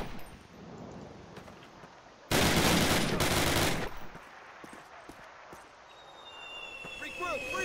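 Dense burst of automatic gunfire in a Call of Duty firefight, a loud sustained volley of about a second and a half, set among quieter scattered shots and soldiers shouting orders.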